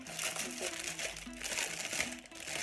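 Wrapping paper is torn open at a Secret Santa gift exchange, giving close, repeated bursts of crinkling and crumpling in an irregular rhythm.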